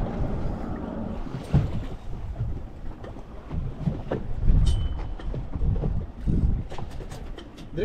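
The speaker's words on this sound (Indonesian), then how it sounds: "Mesin menjerit." Fishing boat engine running at high revs on a jigging and bottom-fishing trip at sea, a continuous rough drone mixed with wind buffeting the microphone and sloshing water, with a few sharp knocks and clatters along the way.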